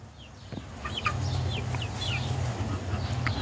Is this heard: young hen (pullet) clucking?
yes